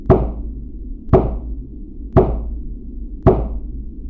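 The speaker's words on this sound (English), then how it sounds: "Return to the west of the altar and deliver 4 knocks." Four sharp ritual knocks struck at an altar during a Golden Dawn neophyte self-initiation ceremony, evenly spaced about a second apart, each a crisp wooden rap with a short decay over a quiet room.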